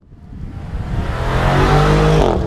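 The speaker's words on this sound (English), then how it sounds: "despite over 450 horsepower pouring out of this V8 into an M Sport exhaust system, the exhaust note on this car is decidedly reserved" A 2018 BMW M550i with a 450-horsepower V8 and M Sport exhaust swells in a rising rev, a loud, close, subdued exhaust growl climbing steadily in pitch over a couple of seconds, with no voices.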